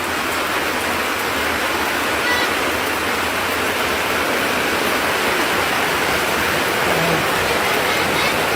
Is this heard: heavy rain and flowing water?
yes